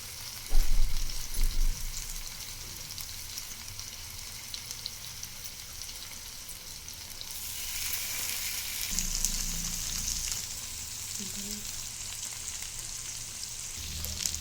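Fish pieces fry in oil with curry leaves and onion over a medium flame, a steady close sizzle that swells louder midway, with a few handling knocks early on.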